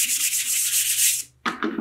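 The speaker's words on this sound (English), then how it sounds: "I'm going to get all of my eraser shavings off of my picture." Eraser shavings are brushed off a paper drawing with quick, close, hissing rubs, one long sweep followed by a couple of short strokes.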